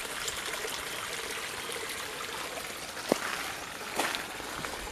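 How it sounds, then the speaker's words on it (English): Floodwater after rain rushes along in a stream, a steady loud broadband wash of water with a couple of brief knocks partway through and no talking. "Crazy, crazy water."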